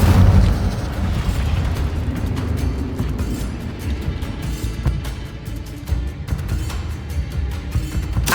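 Fire spell cast in Hogwarts Legacy gameplay, a dense roaring blast with booming low rumble and crackling bursts that sustains loudly throughout, no talking.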